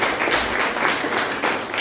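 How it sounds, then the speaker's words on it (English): Applause fills a Toastmasters club meeting room as a dense, steady wash of many hands clapping together, loud and continuous with no talking. "a big round of applause for all of us."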